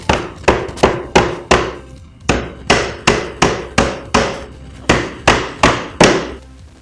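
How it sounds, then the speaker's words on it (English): A rubber mallet strikes wooden pins into a blanket chest in a steady series of about fourteen sharp, close knocks, roughly two per second with brief pauses between groups. "I'll start to hammer the pins"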